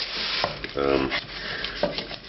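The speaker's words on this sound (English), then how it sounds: "So scrape the bottom of the pan real well." A utensil scrapes and stirs spices stuck in hot fat at the bottom of a pan while cooking a restaurant-style lamb bhuna curry, making gritty scraping strokes over a steady sizzle, close by with brief bursts of louder scraping.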